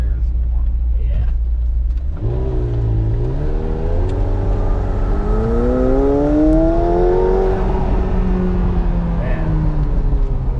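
An HKS 2.8L stroker RB28 engine in a Nissan GTR revs loudly at a drag strip. After a low idle it climbs through repeated rising and falling revs, heard close from inside the car, with people talking over it.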